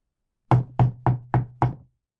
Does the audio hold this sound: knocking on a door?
yes